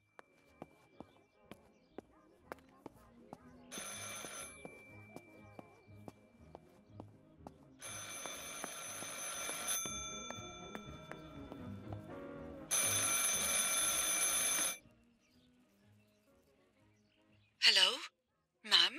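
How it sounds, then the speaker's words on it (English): Old telephone ringing in Martha Is Dead, several spaced bursts of bright bell ringing separated by quieter stretches with footsteps and ambient sounds, ending in short clipped tones. "I should pick up the phone but remain silent."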